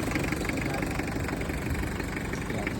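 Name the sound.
Mazda RF engine idling in a Bunsoy type jeep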